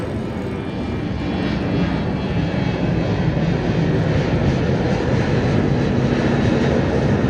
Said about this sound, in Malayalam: ഇവിടെ നിൽക്കുന്ന സമയത്ത് ഇതാ ഒരു ഫ്ലൈറ്റ് പോകുന്നതാ.